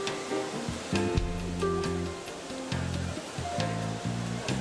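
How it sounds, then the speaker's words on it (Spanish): Wave pool at a water park in Korea, a steady broad rush of churning water under a busy layer of music-like tones and distant crowd noise, loud and continuous throughout. "Y esta piscina de enormes olas"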